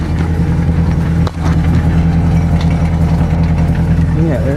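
A car idles steadily with a loud, throaty exhaust rumble, a belt slapping in the engine bay, and a brief dip mid-clip. Talk comes and goes over it.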